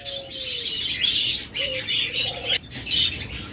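Adult pet lovebirds for sale chirp and squawk in a lively overlapping chorus, several birds calling at once with bright, near tweets and brief wing flutters.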